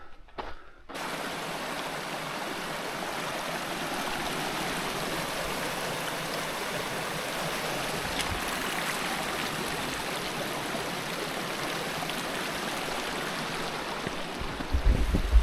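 A mountain creek crossing a hiking trail near Dry Lake in the San Gorgonio wilderness rushes with a steady, even wash of flowing water, close and continuous, with no voices.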